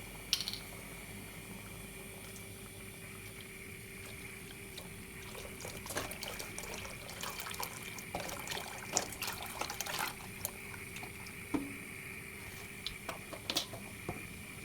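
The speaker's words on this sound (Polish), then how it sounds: "Teraz możemy zalać go mlekiem." Milk poured over freshly cooked rice in a pot while making Turkish rice pudding, a steady liquid pouring and splashing sound with a few faint clinks, fairly quiet and alone.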